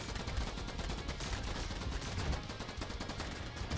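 Rapid shotgun turret fire from the video game Idun, a dense, continuous barrage of overlapping blasts rattling at a steady, loud level throughout with no voices.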